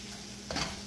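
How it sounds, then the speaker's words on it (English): A vegetable mix fries in a wok for Jamaican patty filling, a soft sizzle under a steady background hum that flares briefly midway with a stirring scrape. "I don't like that sizzle."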